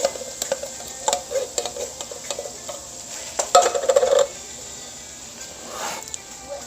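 A drained can of beans is tipped into a cooking pot for baked beans: a short burst of wet clattering and scraping midway, with quieter stirring and light sizzle around it.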